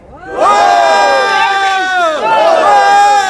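A crowd at a fundraising gala for Eric Adams's New York mayoral campaign shouts and cheers loudly in unison, a sustained burst of many voices that rises, dips briefly, then surges again.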